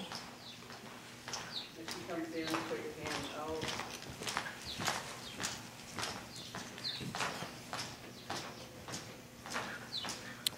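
A horse lopes in an arena, its hoofbeats landing in a steady three-beat rhythm of soft thuds at moderate distance, while someone talks throughout and birds chirp faintly.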